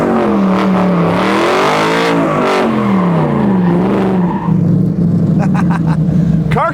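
Factory 5 Racing race car engines rev loudly and continuously, pitch climbing and falling in long sweeps, with a few sharp bursts near the end.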